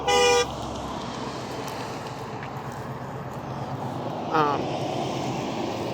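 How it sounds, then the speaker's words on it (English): A single short car horn honk sounds at the start, with a second brief honk a few seconds later, over steady traffic rumble. "that scared me, the honk"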